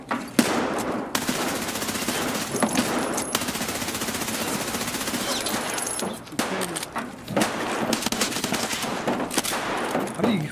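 Bursts of automatic gunfire in a multiplayer shooter game, rapid loud volleys broken by short pauses, with a few single shots between them.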